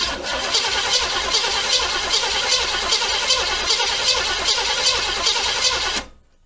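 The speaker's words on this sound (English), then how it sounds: "Let me go hook the battery up and we'll spin this over with you guys under here and see what you think." A C3 Corvette with a freshly installed replacement starter cranks over. A steady, rhythmic churning runs for about six seconds, heard close from underneath the car, then cuts off abruptly into silence.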